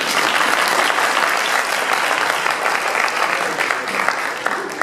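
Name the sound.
applause at anniversary dinner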